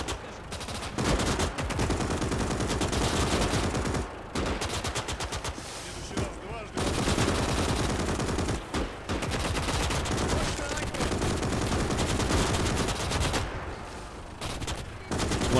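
Sustained machine-gun fire from infantry defending against zombies in the WWII strategy game Gates of Hell, dense overlapping bursts of automatic gunfire almost continuously for the full length, with only brief pauses between volleys.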